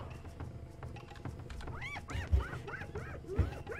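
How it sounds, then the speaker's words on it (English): A wild dog in the Roblox game Wild Savanna gives a run of high, rising yips, fairly quiet over low game ambience with a couple of soft thumps. "That's a wild dog as well"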